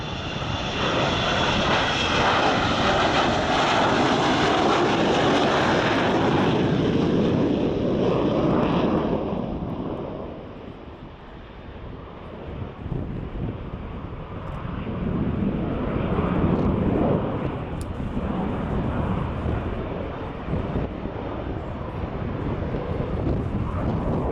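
An Avro Vulcan XH558 jet bomber flies a display at Yeovilton Air Day, its engines a loud, sustained roar that peaks, dips briefly around the middle and then swells again, with wind buffeting the microphone.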